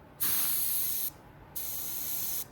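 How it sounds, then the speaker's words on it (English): Two short bursts of paint spray gun hiss during a pattern test, each about a second long, separated by a brief pause, loud and close with no talking. "You always want to spray a little bit, check your pattern"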